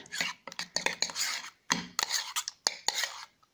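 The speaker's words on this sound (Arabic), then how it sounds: "نستمر في دمج المكونات كما تلاحظون" A utensil stirs face-mask ingredients mixed with sweet almond oil in a small bowl, making close, rhythmic scraping and clinking strokes in short bursts with brief pauses between them.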